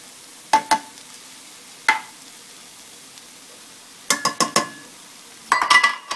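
Mushrooms are stirred into a pan of sausage gravy, giving a quiet low sizzle and a few short clinks and scrapes of a utensil against the pan. The clinks come in scattered clusters, with no voices.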